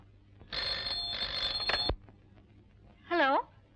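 An old telephone bell in a 1984 Hindi film rings in one long metallic burst, then a short second ring after a pause, fairly close; a voice speaks faintly in between.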